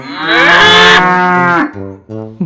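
A cartoon cow lets out a long, loud, drawn-out moo, followed by a few short, clipped lowing bursts near the end.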